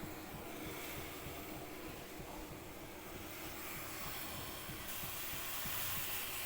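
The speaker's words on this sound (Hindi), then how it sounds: "चाय हमारी खौल रही है, खौल जाएगी तब दूध डालेंगे।" Tea bubbling as it boils in a pot on the stove, a steady dense hiss and rumble of rolling boil, continuous and close with no voices.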